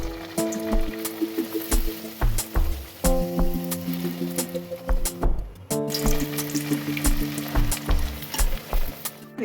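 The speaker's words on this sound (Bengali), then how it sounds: "এই যে ফাইনালি ভাজা চলছে" Fish kachori deep-fry in hot oil with a constant crackling sizzle. Sharp pops, clinks and a few intermittent tonal hums from the kitchen break through it.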